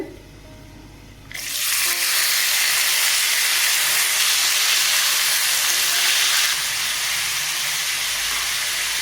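Potatoes, bay leaf and black mustard seeds hit hot oil after a quiet second, setting off a loud, sudden sizzle that settles into a steady, intense hiss and eases only slightly near the end.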